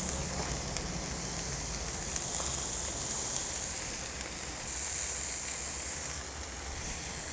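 A burger patty with onion sizzling on a hot griddle with avocado oil, an even, bright hissing roar that holds steady for several seconds without voices.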